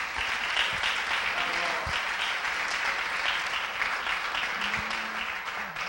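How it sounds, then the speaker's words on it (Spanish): A church congregation applauds its general pastor during a focus-week forum: steady, even clapping from a sizable crowd, moderately loud, with a brief voice briefly audible under it. "para quien pido un aplauso"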